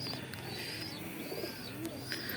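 Giribaj pigeons coo and call softly from a home loft, their low murmuring calls carrying over a steady background hum with no talking.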